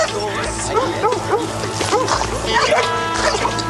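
Attack dogs guarding a settlement outpost bark repeatedly in a busy, rhythmic series of yips and barks, loud and close, mixed with other background noise.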